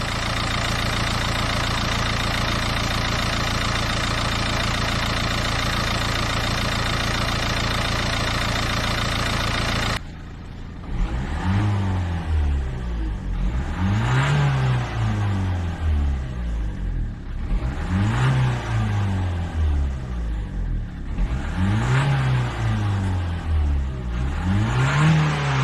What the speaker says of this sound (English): we've started the engine on idle